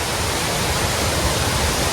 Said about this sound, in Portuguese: E a cachoeira está ali, ó,